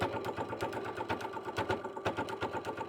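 A sewing machine stitches bias binding onto a dish-mat crossbody bag, its needle pumping in a rapid, steady rhythm up close.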